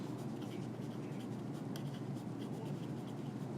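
Writing during a recorded biology lecture, a steady scratchy rub of pen or marker on a board running continuously and fairly quietly, close by, with no talk over it.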